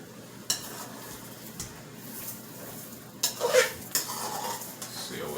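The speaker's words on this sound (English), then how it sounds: "And then you coat your rice, alright, with the liquid that's in here." A spoon scrapes and knocks against a pot as rice is stirred into the cooking liquid for Trinidadian pelau, with a few sharp clanks and a soft rustling stir between them.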